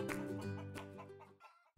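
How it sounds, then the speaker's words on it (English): Several hens in a backyard coop of five laying chickens cluck and chatter continuously at close range, a busy overlapping flock sound that fades out near the end. "This is the chicken coop. We have 5 chickens and they all lay eggs"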